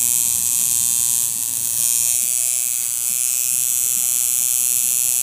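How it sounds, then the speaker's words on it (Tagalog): Tattoo liner machine running on a power supply, a steady high-pitched electric buzz held evenly and close for the whole stretch with no talk. "Ito yung liner machine natin."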